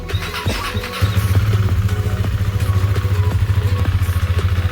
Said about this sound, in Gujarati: કોલ્ડ સ્ટાર્ટ કરશે કિરણભાઈ.